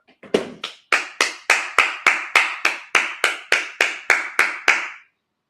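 Congregation at a Sabbath service claps in slow, regular unison, about fourteen crisp claps evenly spaced, close and clear, ending abruptly into silence.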